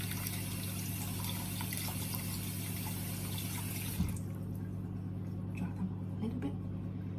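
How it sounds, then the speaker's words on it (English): Grapes being rinsed under a running kitchen tap, a steady faint splashing water stream that stops abruptly around four seconds, followed by quieter handling sounds. "I'm just gonna give them a quick wash under the tap."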